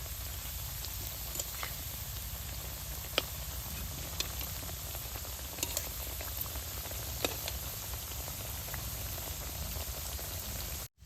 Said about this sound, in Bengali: কলার মিষ্টি পিঠাটা বেশ সুন্দর মিষ্টির মতো করে ভাইজা নেবো।